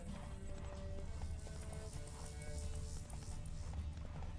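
Horses gallop during a race in the video game The Witcher 3: Wild Hunt. A steady patter of hoofbeats runs over a low rumble of game ambience.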